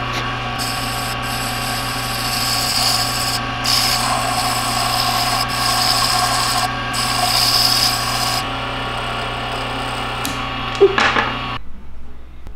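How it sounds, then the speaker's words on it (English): Sandpaper in grits from 150 to 400 rubbing on a small wooden fishing lure, a steady scratchy abrasion in repeated strokes with short pauses, over a constant background hum. "Sandpaper. 150, 220, 320, 400."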